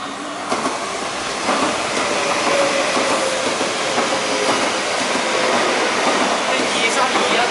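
An SS8 electric locomotive hauling a passenger train through MTR Kowloon Tong station in Hong Kong, a loud continuous rolling roar with rattling wheels and faint background voices.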